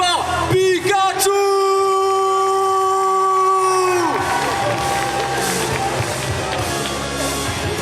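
A festival crowd at a cosplay parade cheers, whoops and applauds loudly for a Pikachu cosplayer, opening with a long sustained whistle or horn tone before dense clapping and shouting fill the space.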